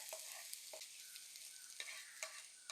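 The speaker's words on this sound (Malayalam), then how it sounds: "ഇനി ഇത് നമ്മുടെ കറിയിലേക്ക് അങ്ങ് തട്ടി കൊടുക്കാവേ" A curry of Chinese potato, elephant yam and prawns is stirred in a hot pan as crushed dried chillies, shallots and curry leaves are added. A bright, steady sizzle is broken by several sharp, close spatula scrapes, with no talking.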